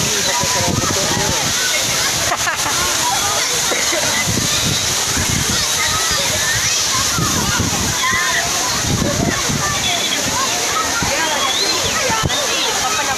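Water tipped from a bottle over a bather at a waterfall spot in West Sumatra, a loud continuous splashing and sloshing that runs the whole time, with voices talking over it.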